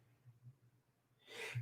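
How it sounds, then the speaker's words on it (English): A single small sneeze bursts out near the end, close and brief, after a stretch of quiet low hum indoors during a music lesson. "I had a little sneeze there"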